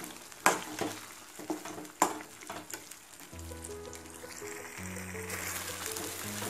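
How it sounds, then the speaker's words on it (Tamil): Mint mixture for a mint pickle fries in oil in a pan while being stirred steadily, with a few sharp scrapes early on and a continuous close sizzle that builds through the second half. "இதை வந்து நீங்கள் கைவிடாமல் ஒரு அஞ்சு நிமிஷம் வந்து இதை வந்து கிளறிக்கிட்டே இருக்கணும் இல்லாட்டா அடி பிடிச்சிக்கும்"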